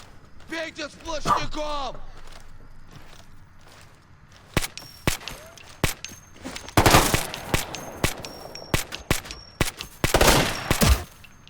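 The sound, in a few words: light machine gun fire in Ghost Recon Future Soldier video game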